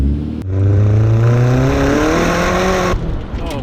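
A Stage 2 tuned Mk4 Golf GTI accelerates hard from inside the cabin, its engine note climbing steadily through the revs in one loud, strained pull before cutting off abruptly near the end.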